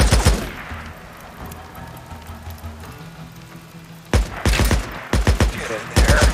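Gunfire in the video game Days Gone: a murky, quieter opening gives way to loud, close bursts of rapid shots and fusillades from about the midpoint onward, arriving in choppy clusters.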